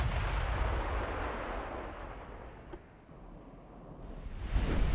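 Distant rolling booms of 16-inch naval guns firing in a dreadnought-era naval battle game, a continuous low rumble that swells and fades with a faint crack midway.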